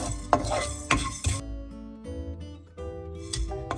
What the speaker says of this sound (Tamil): அதோட கொஞ்சம் பட்டை, கிராம்பு ஒரு 3 ஏலக்காய். இதை கொஞ்சம் சூடு வர வறுத்தெடுப்பேன்